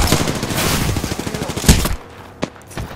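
Rapid automatic gunfire in Apex Legends hammers close and loud in an even, fast rhythm for about two seconds, followed by a couple of sharp isolated shots in a quieter stretch.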